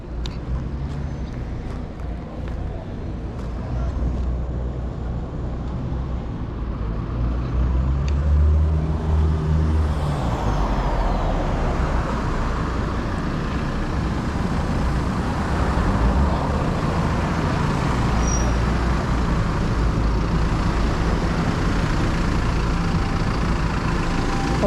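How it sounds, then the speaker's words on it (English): Tourist trucks rumble past in the equator town of Kayabwe, Uganda, with loud, low engine drone and passing vehicle noise building after the first few seconds and staying heavy, traffic continuous and near. "All these are tourist trucks."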